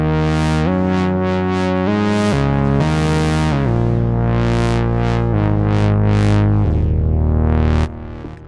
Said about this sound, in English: You hear it really growling, because the sub-oscillator goes a bit too low